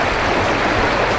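The Magdalena river in Liliw, Laguna, Philippines flows as a steady, loud, close rush of stream water, with no pauses and no voices.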